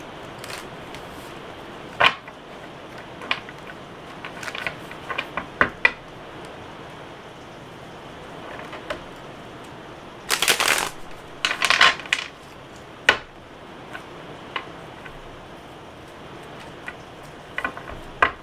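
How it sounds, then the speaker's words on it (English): Soft papery rustles and quick flicks of tarot cards being shuffled by hand, with a few sharper riffles mid-way, close and fairly quiet, no talking. "So just going to do a quick shuffle."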